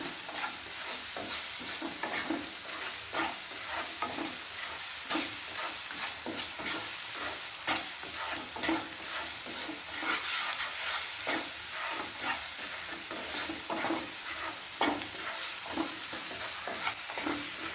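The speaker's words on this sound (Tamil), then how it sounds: "தேவையான அளவுக்கு உப்பு போட்டு நல்லா பச்சை வாடை போக முடியாது வதக்கணும். நல்லா எண்ணெயில் நல்லா வதக்கணும்" Masala of chilli powder, coriander and cumin powder with salt is sautéed in oil for a vegetarian fish-style curry, a dense continuous sizzle layered with rapid, regular stirring scrapes, loud and close without any voices.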